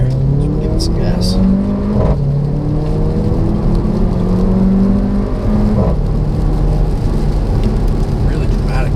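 A 2015 Mercedes-Benz GLA45 AMG accelerates hard up an on-ramp, its engine roaring through rising revs with sharp gear-shift breaks and exhaust blips, loud and close from inside the car.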